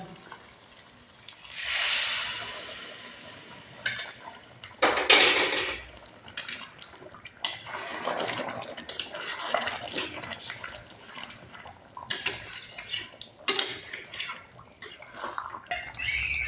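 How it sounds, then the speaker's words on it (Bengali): Hot water is poured into chicken curry masala frying with potatoes and tomato, with a gushing splash, then bubbling and sizzling with intermittent stirring clatter. "এখন গরম জল দিয়ে দিব, মশলা জল"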